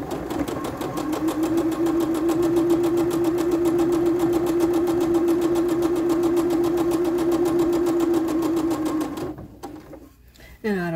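A sewing machine stitches a dress seam in a steady, continuous whirring run for several seconds, close and even, then stops abruptly near the end.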